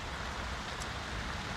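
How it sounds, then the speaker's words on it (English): Steady pouring rain on a morning in Prince George, British Columbia, a dense even hiss that fills the whole moment at a constant, fairly quiet level, with no voices. "It's pouring rain this morning."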